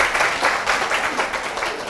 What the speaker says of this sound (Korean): 크게 박수로 환영해 주시기 바랍니다.